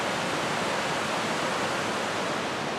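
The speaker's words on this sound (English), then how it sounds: "There's a nice little step falls right down in there. Some nice rapids here." A small step waterfall and river rapids roar in a continuous, dense, loud wash of rushing water heard close up, steady throughout with no talking.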